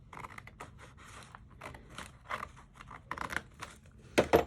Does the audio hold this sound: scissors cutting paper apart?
yes